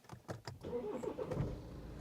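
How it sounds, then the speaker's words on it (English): A BMW 118d F20 diesel engine cranks and catches, a brief starter whir followed by the engine settling into a rough, steady idle close by. "I'm gonna turn the engine on."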